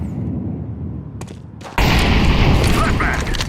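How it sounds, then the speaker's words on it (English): A flashbang grenade goes off in Counter-Strike 2: a couple of short thumps, then a sudden loud bang that gives way to a sustained bright ringing hiss, with a voice present nearby. "Flashbang."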